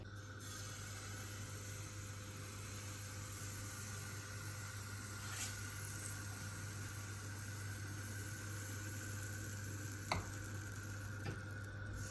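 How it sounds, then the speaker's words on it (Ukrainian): Steady sizzling of carrot crepe batter frying in a hot oiled pan, with a faint hum underneath and a couple of soft clicks, no talking. "Наливаємо тісто в сковорідку."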